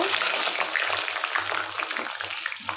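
Dried chillies and garlic crackle and sizzle in hot pickle oil, a steady close fry with scattered pops, with a low murmur underneath.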